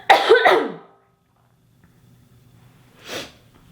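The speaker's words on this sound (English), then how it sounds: "I'm gonna cough." One person coughs a quick burst of two or three close, loud coughs, then falls quiet before a short snort or sniff follows near the end.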